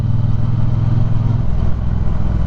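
A 2018 Triumph Bonneville Speedmaster with a six-speed wet clutch rides along with a loud, steady mid-pitched engine drone, the rumble shifting slightly partway through as it changes gear.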